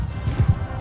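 A horse galloping in Mount & Blade II Bannerlord, with rapid rhythmic hoofbeats thudding close and fairly loud.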